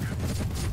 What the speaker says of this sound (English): He just ate 4 nades.